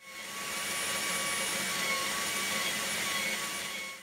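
Dust extraction runs on a table saw with the blade insert removed, giving a steady, loud whooshing roar with a faint whine in it that holds evenly throughout, with no talking.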